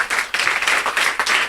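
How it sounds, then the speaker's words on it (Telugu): A church congregation applauding together, a burst of many hands clapping in a dense, fairly loud wash that swells and dips in short waves. "అందరం ఒకసారి చప్పట్లు కొడదాం"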